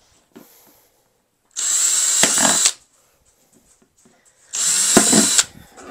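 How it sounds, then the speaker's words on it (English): A power drill drilling into a plastic pot whirs in two loud bursts, each about a second long, separated by a pause with faint handling noises. "Let me go get my drill because I think I'm gonna need that."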